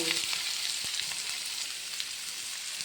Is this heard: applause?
no